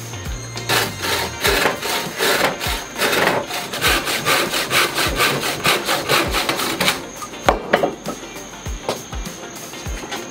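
A handsaw cuts through a clamped piece of wood in steady back-and-forth strokes, a close, rasping rhythm that slows and ends with a few final scrapes and knocks.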